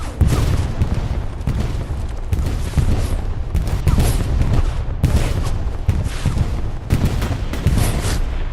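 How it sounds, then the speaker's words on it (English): Katyusha rocket barrage in the Hell Let Loose war game on the Kursk map, a dense, continuous roar of overlapping explosions and rumbling impacts landing nearby, with repeated sharp bursts throughout and no pause. "That Katusha strike, pretty awesome to watch come in"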